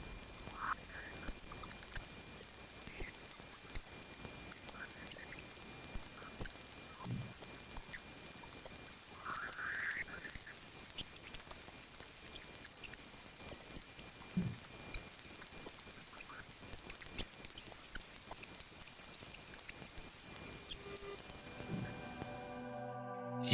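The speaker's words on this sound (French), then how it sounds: "Voici le son de Jupiter." Jupiter's plasma waves at the bow shock, recorded by Voyager 1 and turned into sound, form a steady, thin high whine with faint crackles and scattered soft pops beneath it.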